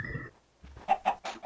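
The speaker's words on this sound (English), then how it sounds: "These chickens don't want to follow me anymore." Chickens cluck in the Minecraft mod Better Than Wolves: a few short, close clucks in quick succession, with no talking over them.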